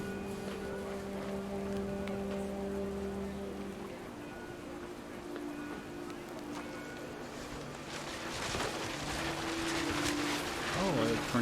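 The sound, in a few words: heavy rain, video game What Remains of Edith Finch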